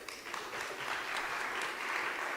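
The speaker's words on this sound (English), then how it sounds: "Please clap hands for them" An audience claps for a live band at a conference gathering, a dense, steady wash of applause that holds evenly for the whole stretch, moderately distant.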